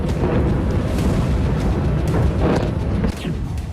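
Missile explosions in Kyiv, a dense run of loud booming blasts and rumbles back to back, several sharp impacts rising out of a continuous heavy roar.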